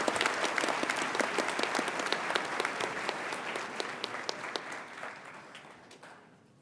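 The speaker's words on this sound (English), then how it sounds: "They deserve a round of applause." Commencement audience at Maine Central Institute applauding the maintenance team, steady clapping from a moderate-sized crowd with distinct individual claps, gradually thinning and fading out at the end.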